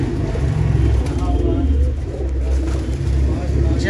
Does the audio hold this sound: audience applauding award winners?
no